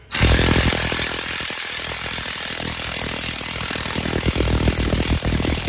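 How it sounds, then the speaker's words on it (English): An impact gun with an 18 mm socket hammers at a rusted front strut bolt on a 2013 Dodge Journey, a loud continuous rattling burst that runs for several seconds without pause. "To get it broke loose, I'm going to use an 18 millimeter with the impact gun"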